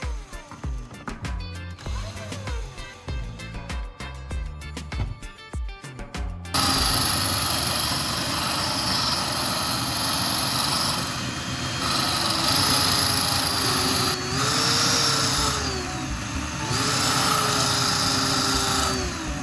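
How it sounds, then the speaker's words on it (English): A small power grinder wears down the tip of a battery core, a loud continuous abrasive whine that starts about six seconds in and runs steadily, its pitch dipping in places, after a stretch of rhythmic music. "Next, I'm going to grind down the remaining tip of battery core."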